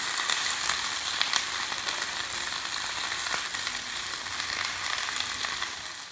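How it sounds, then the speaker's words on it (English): Spinach sautéing in a pan gives a steady, close sizzle and crackle with occasional sharper pops, running unbroken throughout with no talking. "now I am sauteing some spinach."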